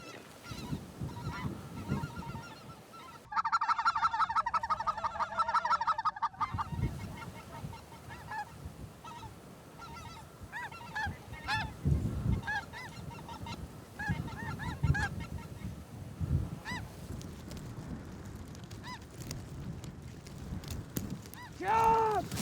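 Geese honk in a loud burst during a Kansas late-season goose hunt with specklebellies, snows and Canadas, then call in scattered bursts while hunters talk and shuffle nearby.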